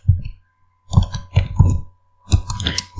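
A computer mouse clicks in short clusters on a desk, several close, crisp bursts separated by brief pauses.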